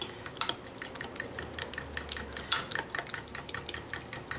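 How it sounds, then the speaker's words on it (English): Parmesan and asiago cheese are mixed into pasta carbonara, heard as a quick run of rhythmic clinks and scrapes of a utensil against the pan over a faint soft sizzle, close and moderately quiet. "I'm just gonna mix in handful of the parmesan cheese and asiago."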